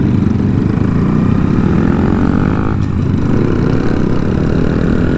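A Honda Monkey motorcycle's exhaust drones steadily and close on Fiesta Island in San Diego, a continuous engine rumble with a faint dip partway through.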